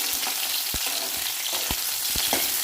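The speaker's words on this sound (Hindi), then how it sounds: "आलू को भी हम हाई फ्लेम पर ही फ्राई करेंगे।" Potatoes fry in a pan of oil over high flame, with a continuous bright sizzle and scattered spoon taps and scrapes as they are stirred.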